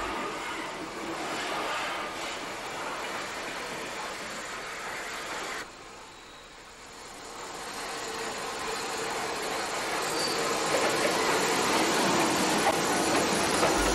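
Steam locomotive 34004 Yeovil moving off the shed toward the station, a steady loud rumble of running gear and steam with rail noise that dips briefly midway before building back up, no voices.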